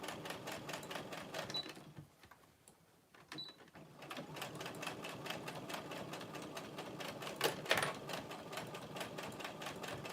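A sewing machine runs fast in a rapid, even mechanical chatter, stopping briefly for a moment before starting up again. It sounds close and steady, with one sharper clack near the end.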